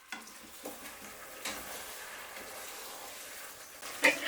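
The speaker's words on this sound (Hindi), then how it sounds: "अब मैं इसी पैन में थोड़ा सा और ऑयल डाल के, क्योंकि मैंने पहले कम ऑयल डाला था, मैरिनेटेड चिकन और आलू डाल के इसको थोड़ी देर कुक करूँगी।" Marinated chicken and potatoes cook in oil in a pan, giving a soft, steady sizzle with occasional stirring scrapes and a louder clatter near the end.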